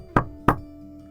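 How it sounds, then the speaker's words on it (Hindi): Two sharp knocks on a door, about a third of a second apart, close and clear over a quiet background hum. "वो दौड़कर वहां पहुंचा और दरवाजा खटखटाया।"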